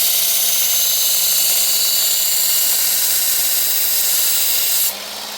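A Camillus carbonitride knife blade is worked against a powered sharpener, a loud, steady high-pitched grinding whine that runs unbroken for nearly five seconds before it drops away to a lower hum.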